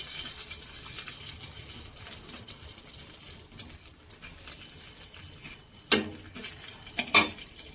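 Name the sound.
dry red chilli tempered in hot oil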